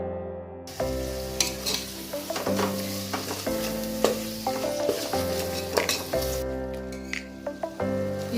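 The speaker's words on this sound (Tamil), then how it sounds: "இது வதங்கட்டும் கொஞ்ச நேரம்." Chopped tomatoes frying with spices in a pan for chicken dum biryani, a constant hot sizzle broken by repeated scraping and clinking as a spoon stirs against the metal, close and fairly loud with no talking.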